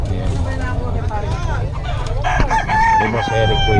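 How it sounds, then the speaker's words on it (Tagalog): Chickens clucking and roosters crowing close by on a farm, a noisy flock with overlapping calls and a drawn-out crow near the end. "yung mga manok niya"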